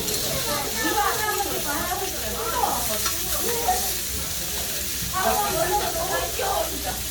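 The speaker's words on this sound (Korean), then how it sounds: "삼겹살이 칙칙 촥촥 태닝되는 사운드에 먹기 전부터 이미 달팽이관으로 맛있게 먹었지 말입니다" Pork belly (samgyeopsal) sizzles on a grill at a Korean barbecue restaurant: a steady crackling, spitting hiss with bursts of popping fat, while voices murmur in the background.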